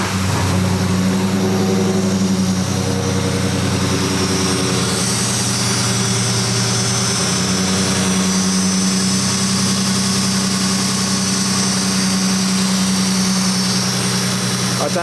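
A Nissan Patrol GQ shorty engine runs steadily after starting, following a repair, with a loud, continuous rumbling drone close by throughout.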